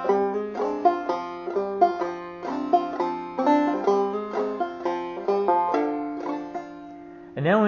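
Clawhammer banjo picks through measures of the old-time tune "Mulberry Gap" in a steady, bouncy rhythm of bright plucked notes over a droning string, close and clear with no talking.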